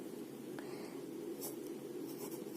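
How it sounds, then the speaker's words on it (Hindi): A pen scratches a dark horizontal Pitman shorthand stroke onto paper, a soft, close, steady scraping that is faint and heard alone over a low background hum. "इसे हम इस तरह से लाइन पर ही डार्क लिखेंगे"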